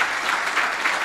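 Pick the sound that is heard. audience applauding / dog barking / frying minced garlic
audience applauding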